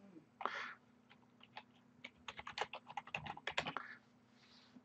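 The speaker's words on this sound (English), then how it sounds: "So I'm going to hit enter." Keys tapped on a computer keyboard while installing software on Ubuntu in VirtualBox: a short run of close, light clicks building to a quick cluster of keystrokes, with faint breathy sounds over a low steady hum.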